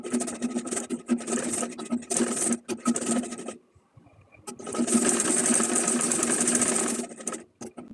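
A sewing machine stitches piping onto brocade fabric for a simple folded bag, running in loud close bursts that stop briefly in the middle before a long steady run resumes.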